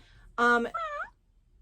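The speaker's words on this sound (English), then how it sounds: "He meowed." One short, clear meow from an interactive plush baby Garfield toy cat, battery powered, close by, followed by quiet.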